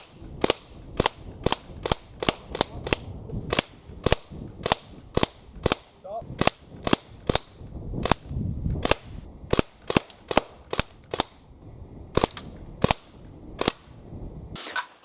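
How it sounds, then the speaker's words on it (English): An Umarex Legends M1A1 Tommy gun BB air gun, UK-spec semi-automatic, fires about thirty sharp, loud, close shots in a fast but slightly uneven trigger-pulled rhythm, with no talking. "then it will go bang, bang, bang, bang, bang, bang, bang, bang, bang, 30 shots as fast as you want to pull that trigger"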